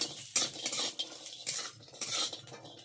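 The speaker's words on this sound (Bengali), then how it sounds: "লাল লাল করে বড়িগুলো ভেজে নিচ্ছি।" Bengali lentil dumplings (bori) fry in mustard oil, a sizzle broken by scraping stirs and clinks of a metal spatula against the pan in uneven bursts, close up with no talking.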